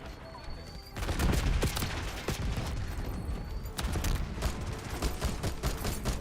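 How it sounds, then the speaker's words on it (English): Rapid bursts of gunfire in a Call of Duty match crackle steadily throughout, dense and loud, with a player's voice talking over the shooting. "Oh no, that guy was shooting."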